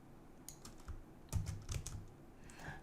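Typing on a computer keyboard, a quick uneven run of soft key clicks and taps at close range, fairly quiet and with no talking over it.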